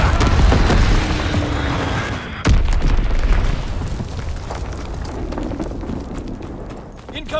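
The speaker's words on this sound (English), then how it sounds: "Incoming enemy artillery." Enemy artillery shells explode in the Call of Duty: WWII multiplayer match on the Aachen map, with heavy booms, a sharp blast midway and rumbling debris, mixed with battlefield clatter and game voice callouts.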